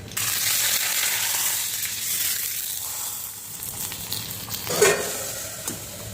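Spices tempering in hot oil for dal and rasam, with curry leaves and garlic, give a steady close sizzle and crackle that swells briefly near the end, with no voices.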